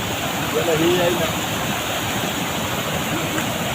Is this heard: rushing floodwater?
yes